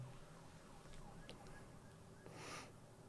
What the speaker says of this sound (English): Where's that siren coming from? Outside.